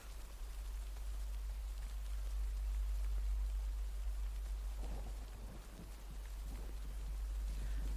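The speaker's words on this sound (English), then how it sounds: "the audio from the rain is very effective" Rain in the video game Death Stranding, a steady broadband hiss of falling rain with a deep low rumble beneath and a soft swell of thunder midway, continuous and without voices.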